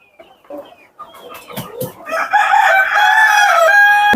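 Black Australorp and Sonali chickens on a laying farm cluck in short, scattered bursts, then a rooster close by lets out one long, loud crow that runs to the end.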